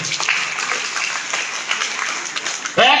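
Applause from an audience at a business motivational gathering, a broad wash of clapping through most of the span before a voice cuts in at the end.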